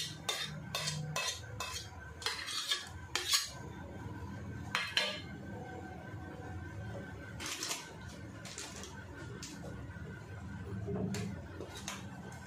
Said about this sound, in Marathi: हा एक कांदा घेतला आहे मी, आणि एकदम बारीक कापून घ्यायचा